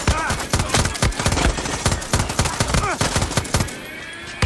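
Rapid automatic gunfire from a weapon in Far Cry 6, a dense, fast burst of close, loud shots rattling for several seconds before cutting off, with a voice speaking over it.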